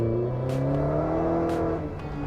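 Ariel Nomad off-road car with a 2.4 litre Honda VTEC engine of 235 horsepower, a sustained tonal engine drone with shifting pitch and a few sharp clicks, fairly loud and steady, no talk.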